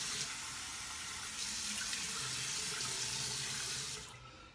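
Cold water runs steadily from a bathroom tap into a sink for a rinse after a traditional wet shave, a close, continuous hiss and splash that stops near the end.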